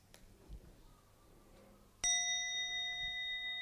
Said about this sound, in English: This wonderful sound of the bell.